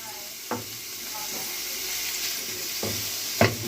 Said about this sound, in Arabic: احط كده، انزل بقى ايه باللحمه المفرومه بتاعتي